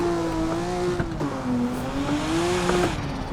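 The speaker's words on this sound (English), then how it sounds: "This car is literally hissing and spitting at me." A car in the BeamNG.drive video game holds a steady engine drone with a wavering pitch, broken by sharp crackles and pops, loud and close.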